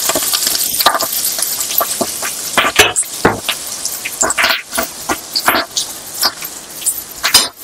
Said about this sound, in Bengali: রাইসগুলো আমি আস্তে আস্তে দিয়ে দিলাম।